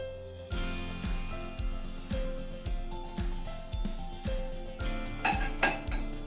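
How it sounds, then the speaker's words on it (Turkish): Æbleskiver batter being stirred in a bowl just after melted butter goes in, a steady rhythm of utensil clinks against the dish, about two per second, close and clear with no talking. "Bunu güzelce bir karıştıralım."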